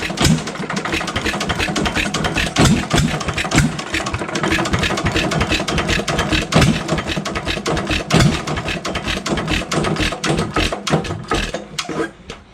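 A Fairbanks Morse 1.5 HP headless hit-and-miss stationary engine runs steadily and loudly up close, its rapid chuffing firing beats continuous throughout before easing off at the very end.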